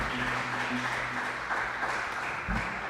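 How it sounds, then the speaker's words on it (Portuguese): Church congregation applauding during a live worship service, a steady wash of clapping filling the room with a low hum and faint tonal sound underneath, no voices standing out. "Aplauda Jesus bem forte"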